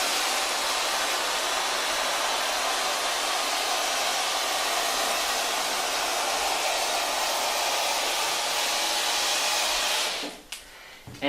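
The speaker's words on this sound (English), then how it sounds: "we're going to start our steamer" A steamer runs continuously while steaming a chair for bed bugs, a steady loud hissing rush that holds for about ten seconds before cutting off with a few clunks.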